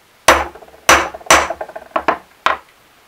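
A small ball tapped with a hammer to finish the holes in a flat engine gasket, six sharp metallic knocks, irregularly spaced and close up, each ringing briefly.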